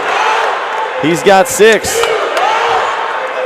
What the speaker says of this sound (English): Crowd chant and everything.